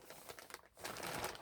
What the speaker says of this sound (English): sorry about all this crinkling